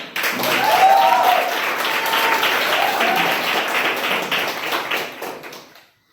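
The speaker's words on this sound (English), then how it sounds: "Applause." Applause at a Toastmasters club meeting as a member is called to the stage: a room of people clapping briskly and fairly close, holding steady for several seconds, then thinning out and fading to silence.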